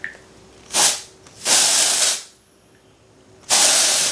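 Kristin Ess dry shampoo hissing from an aerosol nozzle in three bursts, two close together and a longer one after a pause, loud and close with no talk.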